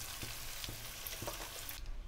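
Onions and slit green chillies fry in oil with a spoon of sugar for chicken rice, giving a faint, steady sizzle with a few soft stirring knocks, no voices.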